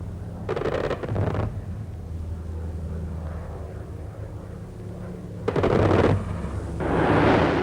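Rapid bursts of fighter aircraft gunfire aimed at WWII doodlebug flying bombs, two loud rattling volleys over a steady droning engine rumble.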